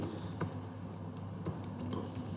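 An SQL insert query is typed on a computer keyboard as a quiet, steady patter of close key clicks with a few sharper taps and no speech.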